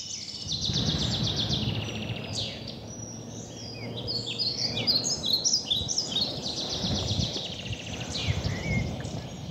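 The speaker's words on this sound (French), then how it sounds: "Entendre différemment le chant des oiseaux." Birds sing in nature, several overlapping high warbling and chirping calls running continuously over a low rustling outdoor background.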